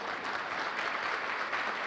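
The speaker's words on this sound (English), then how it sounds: "Feel free to applaud." A seated audience at an awards ceremony gives a short burst of steady, dense applause, heard from within the crowd with no voices over it.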